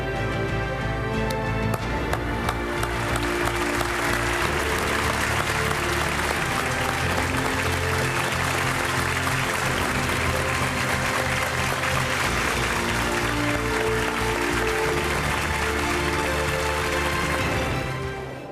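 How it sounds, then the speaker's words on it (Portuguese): Sustained applause in tribute to murdered TV Globo reporter Tim Lopes: a thick, even wash of many hands clapping for nearly twenty seconds, with steady tonal music underneath and no speech. "Em vez do silêncio, o nosso aplauso."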